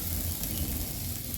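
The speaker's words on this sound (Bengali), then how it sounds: "তো এখন মূলো ভাজা করছি" Radish slices frying in a pan on a clay stove give a steady, close sizzle with a faint crackle and no talk.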